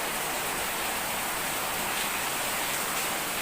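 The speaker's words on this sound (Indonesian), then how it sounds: "Di luar hujan makin deras bro." Heavy rain falls outside. A dense, steady hiss of rain on surfaces continues evenly and loudly throughout.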